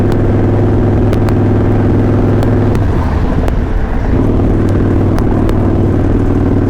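Motorcycle engine while riding through a Houston neighborhood, a loud steady droning hum with low rumble and wind buffeting, the pitch dipping briefly midway before settling back, no talking.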